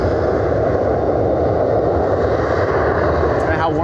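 A Southwest airliner departing Cleveland Hopkins airport bound for Phoenix, heard as a loud, continuous, broad engine roar that stays steady throughout, with a faint rising whine near the end.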